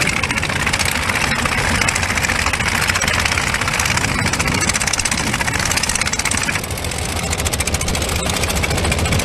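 Boat engines roar during a fishermen's boat race of about fifty boats in Konaseema district, a loud, dense, unbroken engine drone that dips slightly near the end.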